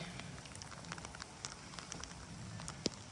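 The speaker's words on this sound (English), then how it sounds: "it's really rainy and misty" Rain falling outdoors on a misty, muddy hillside near a lake: a faint, soft patter of scattered drops with occasional tiny ticks, quiet and continuous with no talking.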